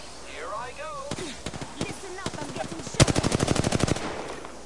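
Gunfire in the video game Apex Legends, scattered single shots building into a rapid burst of loud automatic fire, with a voice speaking over the opening moments.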